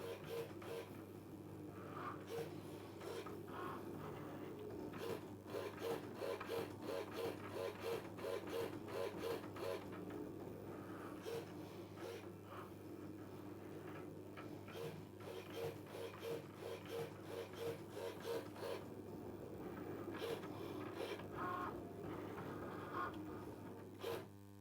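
A Cricut Maker cutting machine slicing synthetic felt on a mat, with a quiet steady mechanical whir and repeated rhythmic carriage movements that run for a long stretch.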